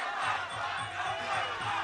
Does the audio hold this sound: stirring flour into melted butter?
no